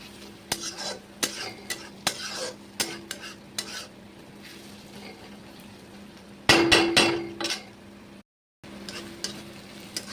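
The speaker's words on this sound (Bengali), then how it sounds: "রসুনটা ভালো করে কষিয়ে নিতে হবে যাতে কাঁচা গন্ধ না থাকে।" Crushed garlic, sixteen cloves pounded in a mortar, frying in a pan for chicken keema, heard as a steady low sizzle broken by repeated sharp clinks and scrapes of a spoon stirring against the metal, with a louder burst of clatter midway.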